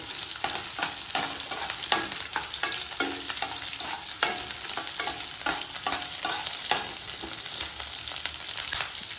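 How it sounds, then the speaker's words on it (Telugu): Green chillies, slit in two, fry in a pan over moderate heat while being stirred, giving a steady close sizzle broken by scraping stirs throughout, with no talk. "ఎక్కువ మంట ఉండకూడదండి తాలిపిట్టుకు. వేయించుకుందాం కొద్దిసేపు."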